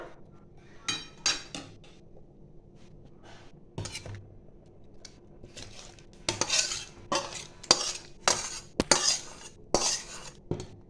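Khichuri of dal and rice being stirred with a metal spoon in a pot, with repeated scraping and clinking strokes in uneven bursts, close and fairly loud.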